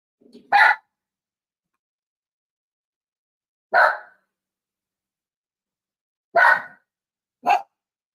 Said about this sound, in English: You hear my doggies barking?